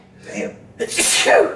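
A single loud, close sneeze with a short sharp intake and burst, alone with no talk over it.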